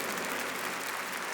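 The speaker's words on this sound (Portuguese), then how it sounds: "Pode aplaudir com força" Congregation at a Catholic religious talk applauds strongly, a dense, even wash of clapping that stays steady throughout, fairly soft in level with no voices above it.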